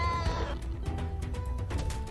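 A feral cat minion enemy in the game Brighter Shores gives a couple of short, close, bleating meows over a steady game background, with no talking.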